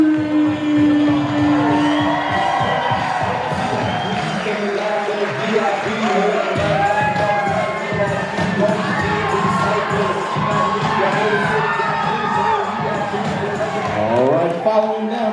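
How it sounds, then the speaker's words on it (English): Wedding guests cheer and whoop for members of the wedding party, a loud continuous crowd roar of shouts and high excited voices, with some talk mixed in. "can we please get a big round of applause for Aaron, Andrew, and"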